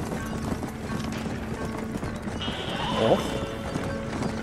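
Horse hooves clip-clop through a rough trail in the video game Red Dead Redemption, a steady rhythmic beat with a brief whinny near the end, mixed under game ambience and a man's short exclamation.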